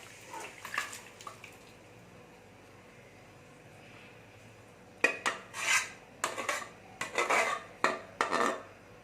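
Metal spoon scraping and clinking around a pot of mutton gravy in a series of stirring strokes, close and fairly loud, after a quieter stretch with a low background hum.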